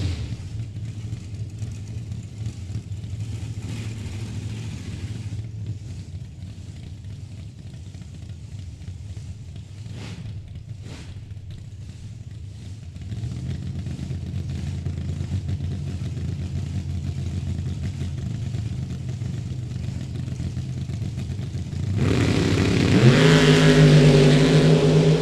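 Drag race cars at Mid Michigan Motorplex idling and staging before launching down the strip, a low steady engine rumble that swells into a loud, rising roar near the end.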